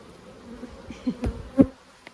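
Honey bees buzzing around a hive, a faint low hum with a few louder bees passing close by over a couple of seconds.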